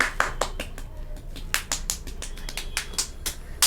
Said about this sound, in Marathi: बॉबसाठी टाळ्या वाजवा